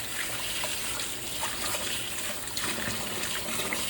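Running water splashes steadily over dishes and vessels being washed by hand, a constant close hiss and trickle with soft clinks and no talking.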